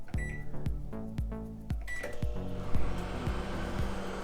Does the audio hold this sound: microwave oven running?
yes